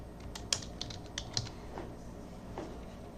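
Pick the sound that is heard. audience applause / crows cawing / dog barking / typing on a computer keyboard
typing on a computer keyboard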